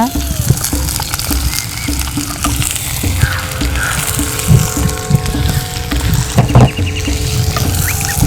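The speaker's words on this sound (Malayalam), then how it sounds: "കയ്പ്പയ്ക്ക, പച്ചമുളക്, ഇത്രയും ചേർത്ത് നന്നായിട്ട് ഇളക്കി യോജിപ്പിക്കുക. ഇത് നന്നായിട്ട് ഒന്ന് വഴറ്റിയെടുക്കണം." Onion, okra, bitter gourd and green chili sauté in a pan with mustard seeds and curry leaves, giving a steady, fairly loud sizzle with scattered stirring clatter throughout.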